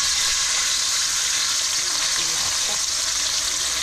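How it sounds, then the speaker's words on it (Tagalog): Grouper frying in hot oil gives a steady, loud broadband sizzle that stays constant throughout, with faint clinks beneath it and no speech. "prito na tayo."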